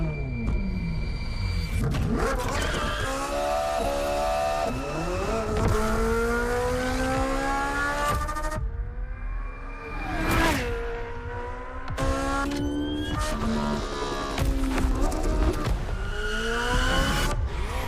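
A Ferrari races in The Crew Motorfest, its engine revving hard through repeated gear shifts with rising and falling pitch, tire squeals and whooshes, loud and continuous with no talk.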